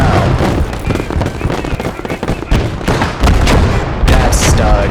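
StuG tank cannon fire knocking out an anti-tank gun in the Gates of Hell war game, heard as a loud, chaotic battlefield of repeated heavy blasts and crackling gunfire with dense rumbling explosions throughout.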